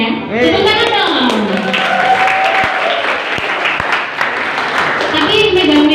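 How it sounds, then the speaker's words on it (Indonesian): A crowd of students at a school student-council candidate debate claps and cheers loudly in a hall, steady applause mixed with excited voices and shouts, fading slightly near the end. "Tepuk tangan dong."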